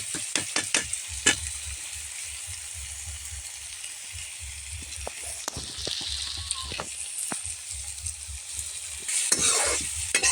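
Maggi noodles and softened tomatoes are stirred and fried in a pan, with a steady sizzle under repeated scraping and clacking strokes of a spoon against the pan.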